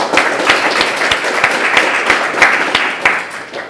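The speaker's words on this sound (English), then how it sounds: "so let's give him a round of applause for" A round of applause at an awards ceremony for a tutoring company, close and fairly loud, with distinct individual claps standing out against the steady patter of the audience.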